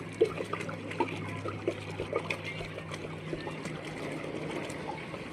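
RO water pours into a container, a soft, continuous trickle with light splashing close by, accompanied by faint background murmurs.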